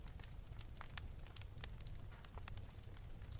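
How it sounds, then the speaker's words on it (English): A cozy fire crackles softly aboard a boat, with scattered sharp pops and snaps over a low, steady rumble, quiet and continuous with no voices. "The gentle crackle of the fire is the perfect comfort"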